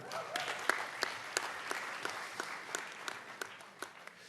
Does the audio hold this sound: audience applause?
yes